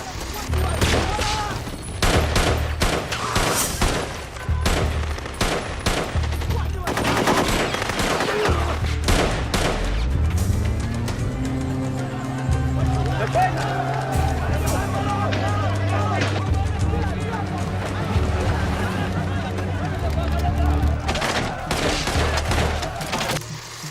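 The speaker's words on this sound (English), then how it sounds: "The streets remained a battlefield with gunfire and explosions lighting up the city." Gunfire and explosions in a street battle between soldiers and militant guerrillas, a dense loud barrage of shots and blasts running continuously with crowd noise and voices mixed underneath.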